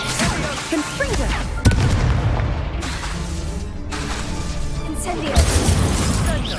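A Confringo blasting spell cast in Hogwarts Legacy erupts in booming, shattering explosions amid dense battle noise, with loud impacts recurring through the clip and a voice briefly calling out.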